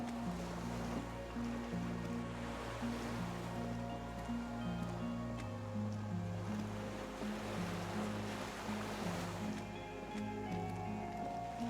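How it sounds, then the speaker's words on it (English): Waves lap steadily around a skiff moored at a dock, a soft continuous wash of water heard beneath a sustained, slowly shifting musical score. "The skiff is swaying on the waves by the dock."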